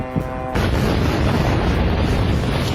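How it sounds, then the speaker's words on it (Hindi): Explosion at a US military base in Bahrain, caught in news footage: a sudden loud broadband blast breaks in after a brief quieter moment, then a dense, sustained roar and rumble fills the rest. "अमेरिकी बेस पर विस्फोट से तबाही, ये विजुअल देखिए।"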